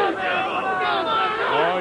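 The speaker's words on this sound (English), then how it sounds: "Oh, you hear the crowd." Football stadium crowd at a 1997 UConn at Maine college game in overtime, a broad, dense roar of cheering and babble rising steadily across the stands, loud and continuous.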